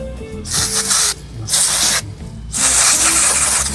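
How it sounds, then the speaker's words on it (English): Water sprays in three loud hissing bursts, rinsing a paint roller, with brief pauses and low background rumble between them. "Spray the inside out, like so."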